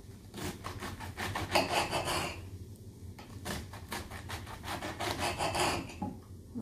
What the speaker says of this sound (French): Donc je fais je découpe juste mon chou comme ça.